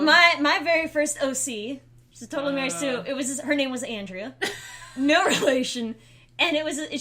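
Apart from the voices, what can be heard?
No everyday noise stands out behind the speech.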